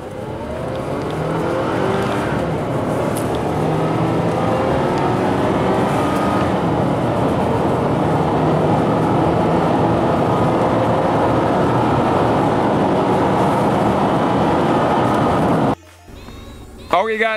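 A Mazda CX-7 2.3 turbo SUV accelerates hard through a 0-60 run with traction control off. Its engine drones and rises loud and steady from inside the cabin for about sixteen seconds, then cuts off abruptly.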